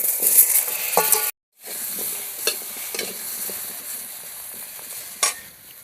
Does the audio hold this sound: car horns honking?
no